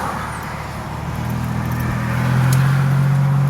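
A 1987 Buick Grand National turbo car drives along a street, its low engine drone steady and close before rising into a stronger, sustained tone toward the end, with no talk.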